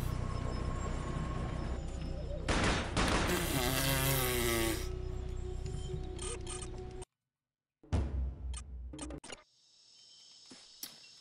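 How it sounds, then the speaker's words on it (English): Elevator machinery running in the video game Combat Task Force 121: a loud, steady mechanical whirring and grinding that cuts off suddenly, followed by a few sharp clanks and a fading hum. "Elevator active."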